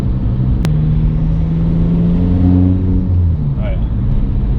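Diesel engine of a Volkswagen 1.9 TDI fitted with big injectors, droning and rumbling steadily as the car drives down the road, loud and continuous with a rising tone near the end.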